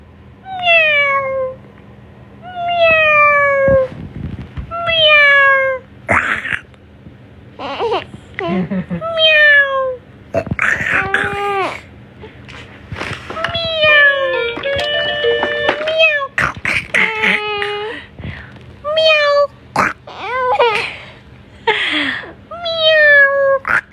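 A cat meows again and again, loud and close, with rising and falling cries that alternate with people talking and a voice that imitates the meow.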